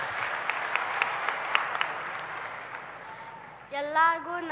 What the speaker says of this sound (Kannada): ಈ ಮಕ್ಕಳ ಪ್ರೀತಿಗೆ ಬರಲಿ ಚಪ್ಪಾಳೆ.